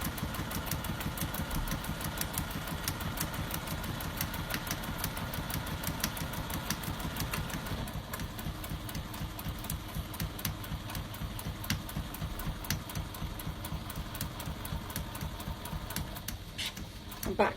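A sewing machine stitches a seam on a fabric tablet stand, steady fast mechanical clatter running continuously up close while a person talks over it.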